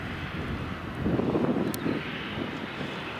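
A KLM airliner moves along the ground at Edinburgh Airport with a steady, fairly distant jet engine roar and some wind noise, swelling briefly louder midway before settling back.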